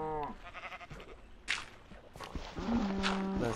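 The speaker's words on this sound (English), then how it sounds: "come here, cows" Cows in the Minecraft video game moo in short, close calls, with one low moo at the start and a longer drawn-out moo near the end, amid faint game sounds.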